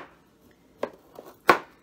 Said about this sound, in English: I want to cut this beet down